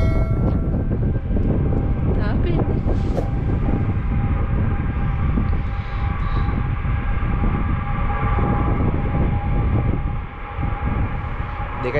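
A passenger airliner taking off at London Gatwick Airport gives a steady, fairly loud broadband jet roar that lasts the whole stretch, with voices talking faintly nearby.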